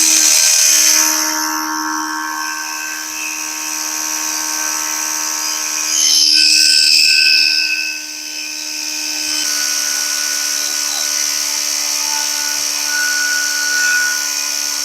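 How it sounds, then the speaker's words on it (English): A revived air compressor runs continuously with a high whining motor tone and buzzing harmonics, shifting in pitch and load partway through, close and loud, with no voices. "I should be able to tell a difference between this air compressor, the one in the other garage"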